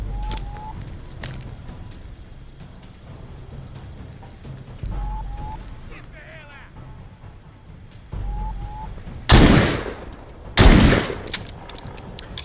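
Gunfire in The Walking Dead: Saints and Sinners, with two loud, dense bursts of shots near the end, preceded by game ambience and small repeated effect tones.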